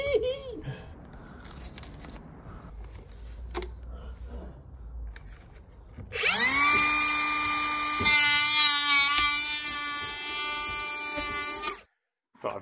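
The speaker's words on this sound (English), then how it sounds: "I've just finished drilling my core bit for the fan that's going in this little downstairs WC" A core drill bores a hole for a fan in a small downstairs WC wall, a loud high whine that starts abruptly after a quieter stretch with a voice, holds steady for several seconds, then cuts off.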